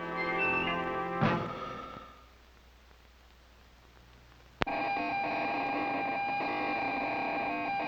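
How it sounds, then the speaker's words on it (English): Steady electronic hum and chatter from a spacecraft component under test before launch, a dense buzzing drone that dips into quiet hiss, then snaps back in with a sharp click and holds loud and constant. "The sounds you hear are those made by a spacecraft component being tested before launch"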